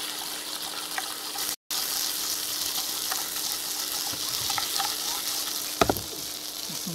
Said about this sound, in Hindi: इसमें हम तड़का मार रहे हैं